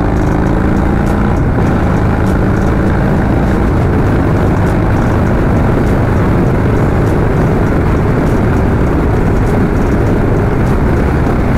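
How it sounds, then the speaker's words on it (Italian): A Harley-Davidson motorcycle fitted with an aftermarket fairing accelerates hard on an open straight to overtake a car, its engine roaring loud and steady at close range with rushing wind noise and no talking. "proveremo a dare una bella sgazzata se riesco a sorpassare questa macchina"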